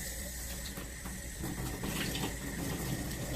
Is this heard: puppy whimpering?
no